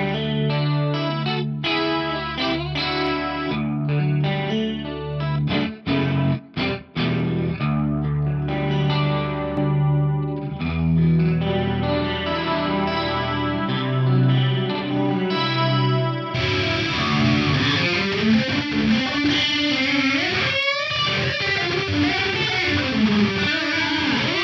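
An electric guitar plays chords and riffs through a shimmering, detuned Yamaha SPX90 Symphonic-style pitch effect modeled in an Axe-Fx, switching partway from clean to a distorted, louder tone.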